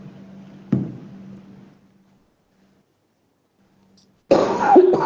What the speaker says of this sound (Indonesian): Sorry ya, agak batuk-batuk.